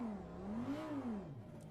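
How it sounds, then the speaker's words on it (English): Audi R8 LMS Evo race car engine in the Assetto Corsa Competizione racing game, a steady loud drone rising and falling in pitch as revs climb then ease off, with no talking over it. "The sound of a regular racing car."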